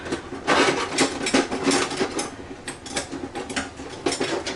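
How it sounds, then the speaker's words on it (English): A small Betty Crocker wire whisk beats an ingredient into a mixture, making rapid, continuous clinking and scraping strokes against the bowl at close range, fairly quiet and rhythmic. "whisk it in. My little old Dollar Tree whisk."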